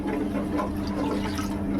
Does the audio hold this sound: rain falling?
no